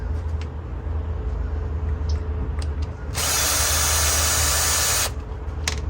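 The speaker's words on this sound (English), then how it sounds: "let's go ahead and take this base screw out here" Power tool backing out a base screw while scrapping metal: a loud two-second whirring burst after some faint clicks and handling noise, over a low background hum.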